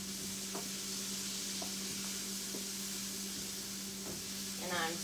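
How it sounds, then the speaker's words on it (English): Onions sautéing in a pan, a soft continuous sizzle with a few faint spoon taps, heard close but quiet over a steady background hum. "And I'm sauteing those"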